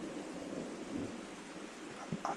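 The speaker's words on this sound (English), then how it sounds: "I'm guessing you could hear that thunder then." Low rumbling thunder rolls outside a campervan on a campsite near Telford, steady and moderately loud with rain-like hiss throughout and a couple of sharper bumps near the end.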